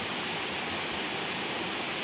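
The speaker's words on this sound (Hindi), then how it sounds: "जोरों का बारिश हो रहा है" Heavy rain pours down in a steady, dense broadband wash, loud and continuous throughout with no voices.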